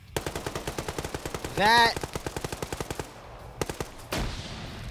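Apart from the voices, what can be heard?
machine gun fire in the video game Wargame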